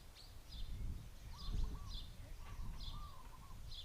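Faint, repeated high bird chirps at an outdoor school commencement ceremony in Hawaii, sounding at a steady rhythm over a low, rumbling background of crowd and wind noise.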